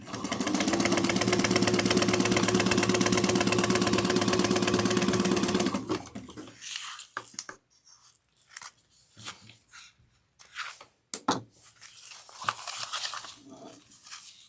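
A sewing machine top-stitches leather card slots at full speed, a loud rapid buzzing whir for about six seconds that stops abruptly, followed by quieter scattered handling clicks and rustles.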